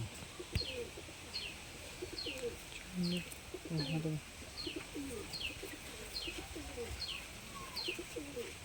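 Golden pigeons coo in repeated soft, low calls, with higher chirps recurring at regular intervals over a constant background hum and faint voices.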